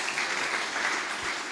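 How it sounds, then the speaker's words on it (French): Audience clapping at a youth entrepreneurship talk, a short, even burst of applause that holds steady throughout with no voices on top. "Please clap for me."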